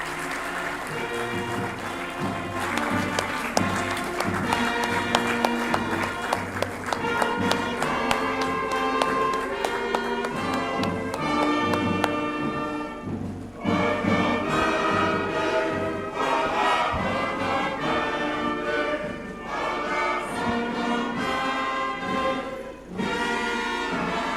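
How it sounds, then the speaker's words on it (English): An audience at a National Assembly budget session claps in a long, steady round of applause, heard together with tonal music-like sounds and some varying swells. "Can we give him a resounding applause?"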